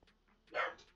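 A dog barks in the Minecraft video game, one short loud bark near the middle, preceded by faint softer yips and followed by a quieter trailing sound.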